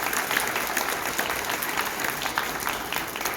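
Applause from the audience at a Choctaw Nation community cultural meeting in Houston, a dense, steady wash of clapping from many people that holds evenly throughout.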